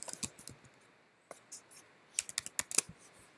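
Clicky keystrokes on a computer keyboard, first a quick few taps, then a short pause, then a denser run of sharp, close taps in an uneven rhythm.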